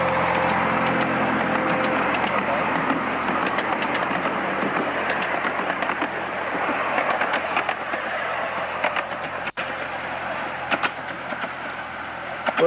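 A 7¼ inch gauge miniature locomotive running along its track at a society meeting in a wooded park, a steady rumbling roll with faint rhythmic clicks, fairly close and continuous.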